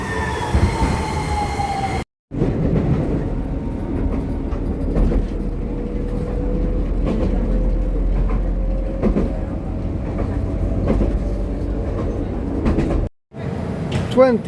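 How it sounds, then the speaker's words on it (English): A rumbling tram ride toward Hiroden Miyajima station with steady low rolling noise, wheel squeals and rattles; the interior rumble cuts out briefly twice, and faint voices appear. "we're gonna go 20 stops with the tram"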